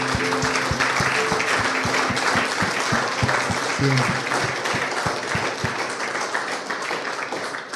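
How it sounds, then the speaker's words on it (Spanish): A church congregation applauds together in a lively burst of many clapping hands, loud and fairly rhythmic, while a voice briefly speaks over the clapping before it thins out toward the end. "Le damos pues un aplauso al Señor."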